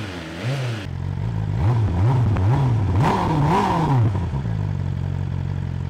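A 2023 BMW S1000RR sport motorcycle engine starts up and settles into a close, loud idle, then is blipped through several quick rhythmic revs that rise and fall before dropping back to a steady idle.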